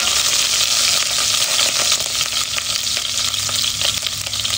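Ginger hitting hot oil in a pan for chicken feet, a loud close steady sizzle and crackle with faint stirring scrapes, continuous throughout with no talking.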